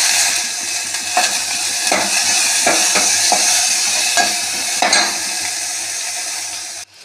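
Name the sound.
frying and stirring onion and tomato in pan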